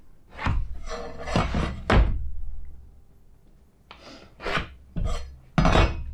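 Corner being cut out of a board during a Vauxhall Vivaro camper van conversion, heard as a series of loud, close rasping bursts with short pauses between strokes, no talk.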